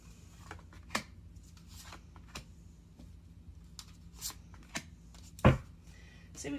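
A deck of Psychic Tarot cards is shuffled up close, with soft riffling and sharp snapping cuts spaced a second or so apart in a quiet room. One louder slap comes near the end.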